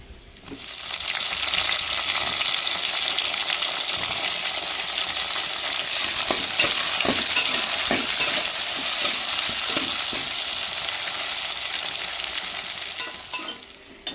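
Tomato and brinjal frying in oil with onion and green chilli, a loud continuous sizzle with scattered scraping and clicking of a stirring spoon that tails off near the end.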